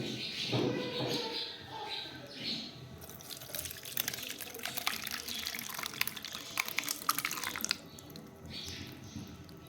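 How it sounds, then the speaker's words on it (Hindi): Curdled milk being strained through a sieve for rasmalai, a steady splashing, dripping pour close by, thinning to trickles near the end, with faint talk at the start. "अब हम इसे छन्नी में डालकर छन्नी की मदद से छान लेंगे।"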